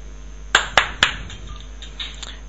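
Three sharp hand claps in quick succession, close and loud, followed by faint background noise, done to set off a clap-activated phone finder.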